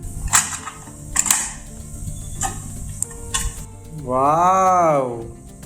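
The lid of a pressure cooker holding goat trotter paya is worked open in a home kitchen: several sharp metallic clicks and scrapes, then a brief, loud wavering tone near the end.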